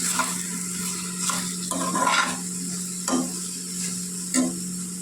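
Softened jackfruit being stirred in a covered pot after the lid comes off, soft scraping and mushy stirring strokes repeating every second or so over a steady low hum.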